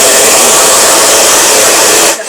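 A hair dryer blows hair dry with a loud, steady, close roar that holds for about two seconds and then cuts off abruptly.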